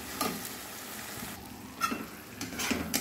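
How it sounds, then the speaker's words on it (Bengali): Spice paste with tomato and Kashmiri chilli powder frying in a pan, a quiet continuous sizzle broken by a few stirring scrapes, close with no voices. "এবার 3-4 মিনিট কষিয়ে নেব।"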